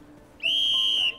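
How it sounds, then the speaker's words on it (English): A whistle is blown once in a single shrill, sustained blast lasting under a second, loud and close against a quiet background. "Oh, but stop with the whistle."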